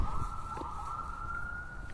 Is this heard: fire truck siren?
yes